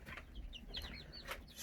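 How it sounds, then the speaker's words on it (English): Young chicks cluck and chirp in a few short, bright calls over a low background hum, close but quiet, with no voices. "Feeding these and these chickens here."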